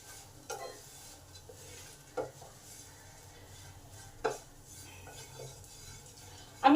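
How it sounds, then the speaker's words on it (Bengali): Flattened rice is lightly fried in a little white oil in a pan. A spoon stirs with occasional scrapes and clinks over a faint, low sizzle, and there is no talk. "তেল গরম হলে চিড়েটাকে আগে দিয়ে দিলাম। এটাকে জাস্ট হালকা করে ভেজে নেব,"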